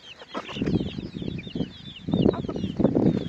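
Several chickens cluck in short, repeated bursts close by at a roadside shepherds' camp, with thin bird chirps scattered above them.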